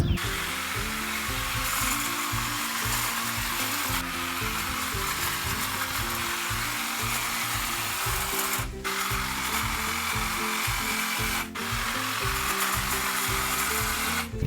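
A Bosch AHS 50-20 LI cordless hedge cutter trims a hedge with a loud, steady buzzing motor and rhythmic blade chatter for about fourteen seconds. Two brief dips break the sound, and no one talks.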